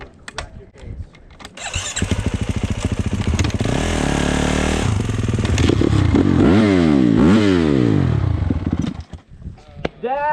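A dirt bike on the sand dunes is kicked over, catches and sputters, then revs repeatedly with rising and falling engine whine, loud and close, while people speak faintly at the start and end.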